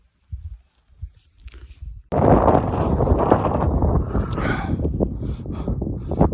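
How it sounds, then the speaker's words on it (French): Wind roars loudly across the microphone on a mountain trail in the Belledonne range, starting abruptly after a few soft rustles and gusting steadily until the end. "il commence à avoir un petit peu de vent"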